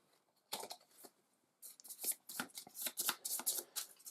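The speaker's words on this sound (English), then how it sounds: "This one's going to get shuffled back in." Board game cards being shuffled back into a deck during tabletop play, a short riffle burst followed after a pause by a longer run of crisp, rapid card-on-card flicks and taps, close and clear with no talk.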